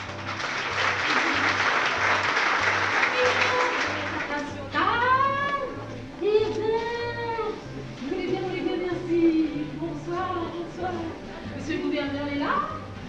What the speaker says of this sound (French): Un gros applaudissement pour tous ces auteurs qui sont là.